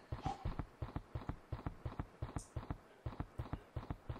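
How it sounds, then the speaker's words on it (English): Footsteps of a character in a Unity video game, a steady run of evenly spaced, clip-clop-like steps repeating about four times per second throughout, fairly close and with no talk over them. "Going to demonstrate the same thing with footstep sounds here."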